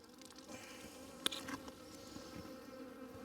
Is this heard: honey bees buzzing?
yes